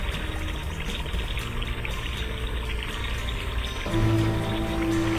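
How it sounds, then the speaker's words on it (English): Stream water flows under a tiny bridge, making a continuous close pouring rush that grows slightly louder toward the end, with a steady tone running beneath it. "Below, the water finally flows under the bridge as it should."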